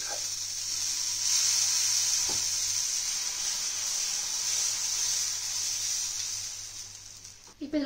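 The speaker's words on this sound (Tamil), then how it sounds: "இப்போ வந்து நம்ம இதில் தோசை ஊற்றிடலாம்." Dosa batter sizzles on a hot griddle stone, a steady bright hiss that holds evenly for several seconds and then tapers off, with a short clatter at the end.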